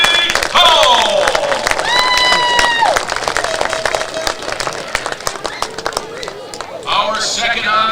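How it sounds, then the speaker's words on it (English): Audience applauding to honor Bowie County Judge Bobby Howell at a Pleasant Grove vs North Lamar game, a dense sustained crowd clapping and cheering throughout, with whistle-like tones and voices mixed in. "Please, a round of applause as we honor local hero, Bowie County Judge Bobby"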